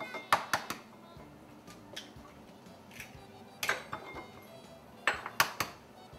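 Three eggs are cracked against a hard edge in a kitchen, giving several sharp, close taps and clicks in small clusters, with quiet gaps and faint kitchen noise between them.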